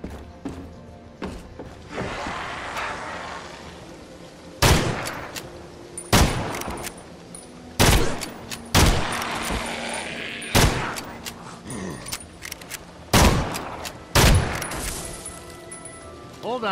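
Gunfire in the Evil Dead video game, loud sharp shots fired one at a time every second or two, with quieter rumbling background and shuffling movement between blasts.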